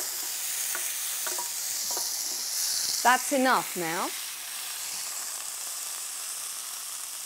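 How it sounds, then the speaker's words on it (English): Seasoned moose meat sears in a hot pan with a steady sizzling hiss, while a voice speaks briefly in the middle over the frying. "You're not cooking it, you're just searing it."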